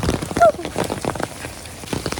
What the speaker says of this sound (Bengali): আসলে তো প্রচুর বৃষ্টি হচ্ছে